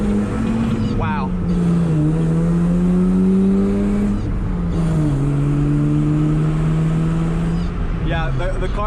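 A Mazda RX-7 on new sticky tires accelerating hard, heard from inside with a loud, steady rotary engine drone that rises in pitch, dips at a gear change, then climbs again.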